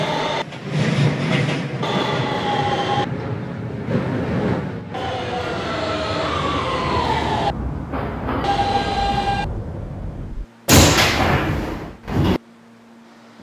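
Manhattan-bound Q local subway train, a Kawasaki R160B Siemens car in a Roblox game, rumbling steadily with shifting motor tones and brief louder bursts near the end, no talk.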